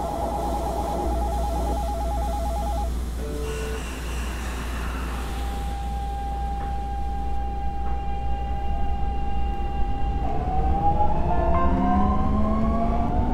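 A metro train on Line 15 pulls away and runs along the rails, its low rumble steady throughout while a motor tone holds and then rises in pitch as the train gathers speed, with no talk over it.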